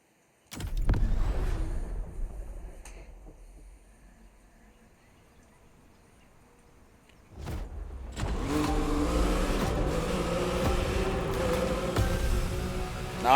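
A car in the racing game The Crew Motorfest, engine starting with a sharp burst, settling to a lower idle, then surging into a loud, sustained drive with rising revs toward the end.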